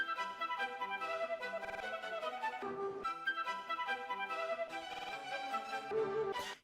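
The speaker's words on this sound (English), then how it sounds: "So the sample with all the effects sounds like this" Sampled classical music chopped and processed with Gross Beat and Effectrix, rich sustained harmonic tones that stutter, gate and drop out in places, steady and loud throughout with no voices, the opening material for a trap beat.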